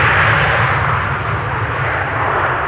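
A 29-year-old airliner, first flown in 1995, arrives at Amsterdam Schiphol Airport with a loud, steady engine roar that holds throughout.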